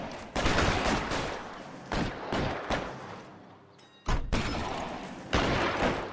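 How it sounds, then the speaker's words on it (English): Gunfire in the L.A. Noire video game: several loud, sharp shots and bursts close by, separated by brief quieter gaps, with no talk over them. "I want to know what you guys are shooting at"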